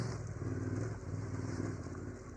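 A Yamaha Tenere 700 rides along a rough bush bridle track, its engine a steady, fairly near drone with slight rattling and wind noise throughout.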